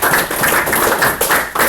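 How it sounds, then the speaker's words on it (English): An audience applauds after a debate between Libertarians and Democrats, a dense burst of clapping that stays steady and close for the whole stretch, with no voices over it. "let's give a round of applause for the debates."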